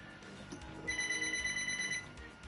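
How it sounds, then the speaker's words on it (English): A telephone rings faintly in an online game, producing a thin, high electronic trill for about a second over low background game noise. "Well, that phone isn't that loud."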